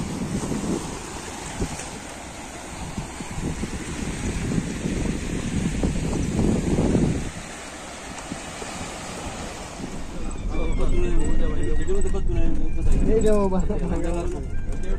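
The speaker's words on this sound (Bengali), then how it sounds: "দুপুরের সময় তো আস্তে ধীরে জোয়ার বাড়তেছে, ঢেউ অনেক বেশি বাড়তেছে আস্তে আস্তে।" Sea waves wash in as the tide rises at Patenga beach in Chattogram around midday, a broad continuous surf roar with wind buffeting the microphone, and someone speaks over it near the end.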